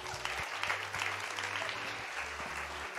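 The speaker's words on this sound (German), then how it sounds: "Lass dir einen Applaus geben." Audience applause at an ICF youth church service, a steady wash of clapping held for the full length, with sustained low organ or keyboard tones playing underneath.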